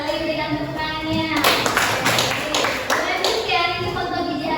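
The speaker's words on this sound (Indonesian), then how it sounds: "Sekali lagi berikan tepuk tangannya." A high school class claps together in a classroom, a short burst of scattered hand claps rising then fading, mixed with sustained voices and chatter around it.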